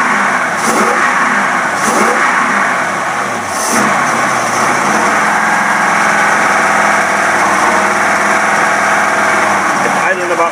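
A Pontiac engine fitted with a tri-power intake and three carburetors revs up in several quick, loud bursts, then settles into a steady high idle that holds close and continuous.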